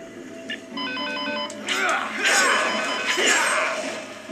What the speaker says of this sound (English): I'm gonna find a safe place to check this phone call